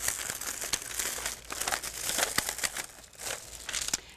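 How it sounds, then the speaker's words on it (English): Adhesive fabric stickers peeled off their backing, giving a steady close crinkling and tearing rustle with several sharper crackles over about four seconds, no talk. "And we're going to peel this right off."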